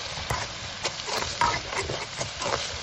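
A spoon stirs a pot of asam pedas fish stew made with jenahak fish and tamarind juice. The scraping swishes repeat steadily, close up, with a sizzling simmer under them and no talk.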